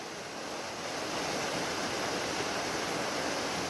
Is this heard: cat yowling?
no